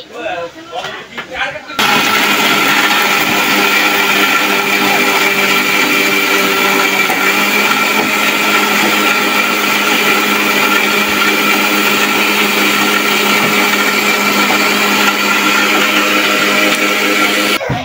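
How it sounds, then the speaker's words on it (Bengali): An electric blender whirs loudly and continuously, blending jamun juice with ice, salt, sugar and chili, starting after a short moment of handling noise and running steadily to the end, with some talk present. "তো এখন আমরা এটা ব্লেন্ড করে নিব ব্লেন্ডারে"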